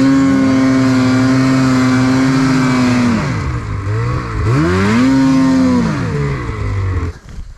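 A snowmobile engine on a centrifugal clutch, which reaches about 8,100 RPM, holds a loud, close, steady high-pitched rev, then drops and climbs again in two swooping revs before cutting off near the end, with no talking.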